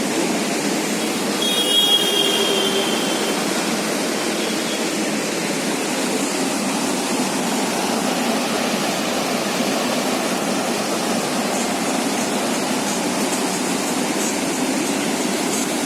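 Snowmelt river from the Rohtang rushing past a river beach near Manali, a loud, broad, unbroken roar of fast water filling the whole stretch, with no voices over it.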